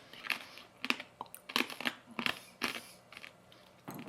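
Loud, crisp crunching bites of chicharrón pork rind snacks, about eight sharp crunches in an uneven chewing rhythm, close up with no talking.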